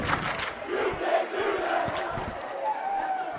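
Ice hockey crowd at a high school cup final between Kinnelon and Vernon roars and shouts in reaction to a penalty call, a steady dense wall of cheering and yelling with no break.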